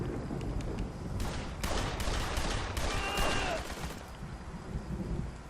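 Rapid bursts of gunfire from the video game Blues and Bullets, rattling volleys and sharp cracks packed close together over a dense, noisy game soundscape, fairly loud and continuous.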